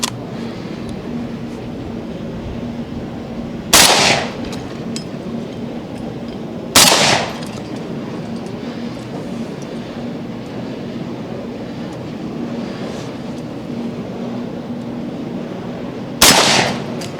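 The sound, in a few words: shotgun shots from Remington Sportsman 48 12 gauge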